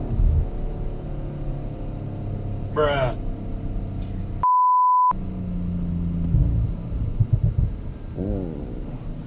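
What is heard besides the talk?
2020 Audi RS 5 Sportback 2.9 TFSI exhaust burble off throttle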